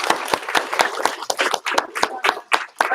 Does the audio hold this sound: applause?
yes